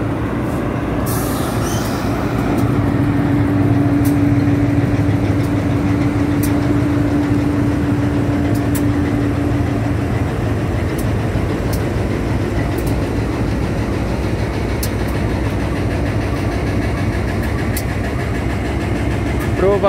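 Two GE locomotives being towed by MRS rumble and idle steadily at close range for the full stretch, a low, even engine drone with a brief humming tone early on.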